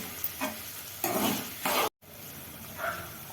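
Broad beans and tomato frying in a pan for a village-style curry, with a close, crackling sizzle and a few bursts of stirring that swell and fade, no talk.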